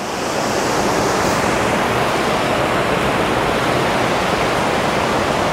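Gooseberry Falls in Minnesota's Gooseberry Falls State Park roars as a steady, loud wash of falling water, a broad continuous rush with no pauses and no voices.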